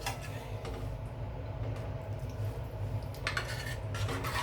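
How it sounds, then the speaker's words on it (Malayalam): Buttermilk curry (ottu moru, made without coconut) being stirred in a pot, a steady low scraping and clinking of a spoon against metal with a few brighter taps near the end, no voices. "നന്നായി ഇളക്കി കൊടുത്ത്"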